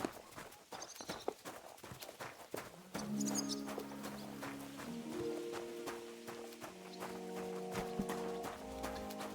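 A horse's hooves clip-clop at a steady walking rhythm in the medieval video game Kingdom Come Deliverance 2, sharp and close at first, then continuing under swelling orchestral game music.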